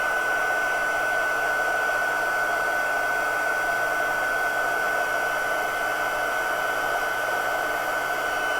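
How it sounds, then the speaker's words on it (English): Steady, loud whirring blast of a heat gun used for heat embossing on vellum, running without pause from start to finish with a constant airy hiss. "So I am going to heat emboss, and I'm going to just put the heat to the bottom of the vellum"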